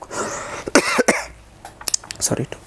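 A man coughs several times in short bursts with throat clearing during an indoor conversation, close and loud, with brief talk around the coughs.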